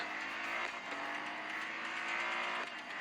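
Mercedes C63 AMG race car engine in a racing video game, a loud steady high-revving drone running continuously throughout with slight pitch shifts, no voices.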